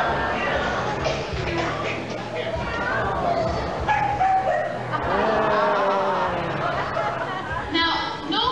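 A dog barks and yips in bursts, mixed under ongoing people's voices and a busy background.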